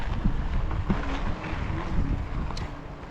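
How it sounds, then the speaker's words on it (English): Wind gusts outdoors buffet the microphone, producing a loud, uneven low rumble that rises and falls over a few seconds. "It's a little windy"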